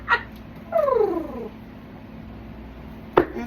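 A cat meows close by with one drawn-out, descending wail, framed by a short chirp at the start and another brief sharp cry near the end, in a quiet room with no talking.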